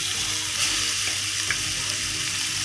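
Marinated chicken pieces in hot oil give off a steady, close hiss and crackle of frying, even throughout with a faint clink or two and nobody speaking.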